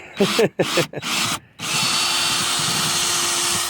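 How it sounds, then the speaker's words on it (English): A Craftsman power drill whirs in a few short bursts while drilling holes for saddlebags on a Kawasaki Vulcan 900 Custom, then runs in one long steady spin, loud and close, with no talking. "drilling the bottom holes now"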